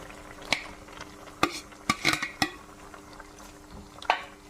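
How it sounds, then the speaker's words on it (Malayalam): Sautéed bitter gourd tipped into a thickened tamarind and jaggery gravy for pavakka curry, then stirred: a few sharp clinks of a spoon on the pan over a soft bubbling simmer, no voices. "നല്ലവണ്ണം കുറുകി വരുമ്പോൾ നമ്മൾ വഴുത്തി വെച്ചേക്കുന്ന പാവയ്ക്ക ഇതിലേക്ക് ഇടുക"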